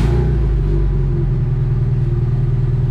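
A Honda D16Y8 engine in an EK coupe, up close and loud, cranking briefly, catching and settling into a steady, rumbling idle with a pulsing low throb.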